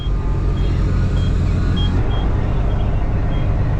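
A rebuilt farm tractor engine, its first start since a major overhaul, rumbles steady and loud up close, a low continuous drone filling the scene with faint beeps above it and no talking.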